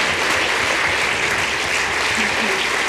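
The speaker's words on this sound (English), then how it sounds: "I want to give a big hand, round of applause to our guests." An audience at an art talk and conversation about Mark Rothko gives the guests a round of applause: steady, dense clapping from many hands, held at an even, moderate level throughout.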